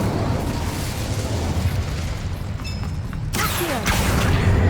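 Incendio fire spell cast in Hogwarts Legacy: a sudden loud whooshing burst hits partway through, rising out of a steady rumbling background and trailing off with a crackle.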